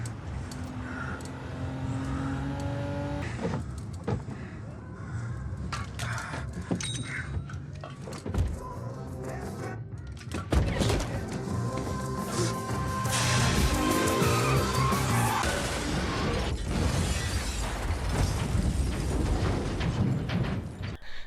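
A car chase with a car overturning in the 2021 action film Nobody, full of revving engines, tire noise, crashes and scraping metal, loud and continuous with music and effects layered throughout.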